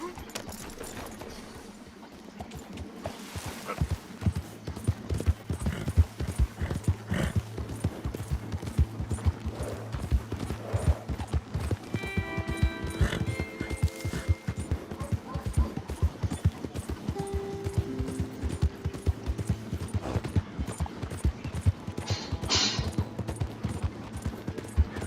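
Galloping horse hooves in Red Dead Redemption 2, a fast continuous drumming of hoofbeats over the ground with tack jingling and faint game music, steady and close for the whole stretch.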